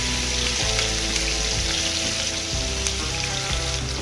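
Onion and garlic frying in a pan give a steady, close sizzle with a few light stirring scrapes, and no one speaks.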